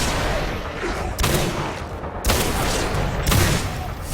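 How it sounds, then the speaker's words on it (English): Explosive barrels shot in the video game Singularity go off as heavy booms, three loud blasts spaced about a second apart over a continuous rumble of gunfire, with no talking. "some of these nice zeex are nice enough to spawn in with some explosive barrels for us to shoot above their heads"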